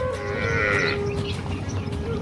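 Stray cows wander on a farm where crop fodder is piled, and a drawn-out bovine moo rises over a steady low engine-like drone, with faint scattered sounds around it.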